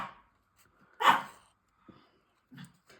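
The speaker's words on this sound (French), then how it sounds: "Et Théo va aboyer jusqu'à ce qu'elle sorte." A pet dog barks in a home, giving a few separate loud barks with short pauses and a fainter yip near the end.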